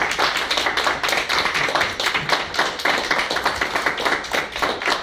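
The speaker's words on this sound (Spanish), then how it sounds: "despidamos a nuestro presidium con un fuerte aplauso" An audience at a university book presentation gives loud, sustained applause, many hands clapping in a quick, even rhythm with no voices on top.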